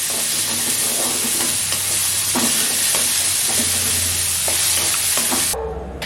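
Snake gourd pieces fry in a little oil with a continuous close sizzle, broken by repeated spoon stirs and scrapes against the pan, until the sound cuts off abruptly near the end.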